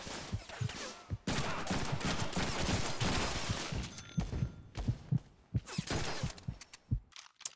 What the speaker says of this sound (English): I guess it probably wants me to shoot my gun here